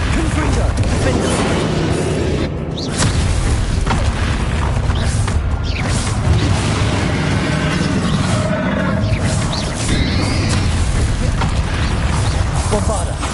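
Bombarda and Confringo spell blasts in a Hogwarts video game fight: continuous loud booming and crashing with mechanical creaks and thwacks, under ongoing speech.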